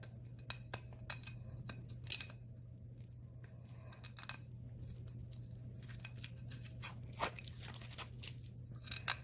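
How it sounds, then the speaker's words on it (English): Tape being peeled off cured resin coasters, a steady run of close crackling rips and sticky tearing snaps over a constant low hum, irregular and continuous with no talking. "it does take a little while to pull off all the tape"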